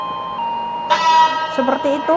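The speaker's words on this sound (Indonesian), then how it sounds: "Kalian bunyikan klakson dulu." Train horn from the TSA train simulator video game, a loud sustained blast beginning partway through and followed by short pulsing toots, while someone speaks over it.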